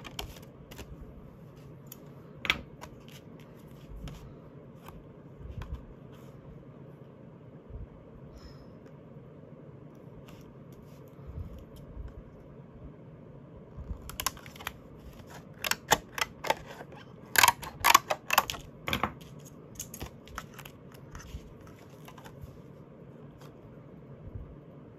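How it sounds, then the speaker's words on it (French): Scissors cutting through card stock for a handmade spring shaker card, a quiet workspace with soft snips and handling noises early on, then a denser cluster of sharp, crisp cuts near the end, with no voices. "Ça se coupe très bien au ciseau."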